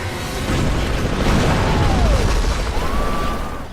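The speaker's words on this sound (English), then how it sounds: "attempt to light up a fueling station, resulting in an explosion that wouldn't be out of place in a Michael Bay movie" A fueling station set up as a stunt on Fear Factor explodes: a loud, sustained boom and roar lasting several seconds, with rumbling low end and whistling tones sweeping across it, and no talk.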